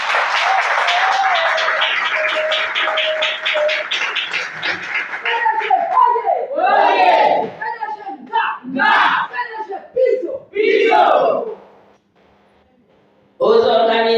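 Loud crowd cheering and applause at a women's awareness conference in honour of the organisation's president and secretary general, with shouts and voices rising over the clapping before it thins out and fades to near silence, then briefly resumes.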